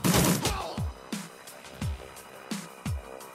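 Gunfire in the game Shadowrun: Nightmare Harvest comes as separate sharp shots, each with a falling booming tail, spaced unevenly after a louder opening burst, with no talking.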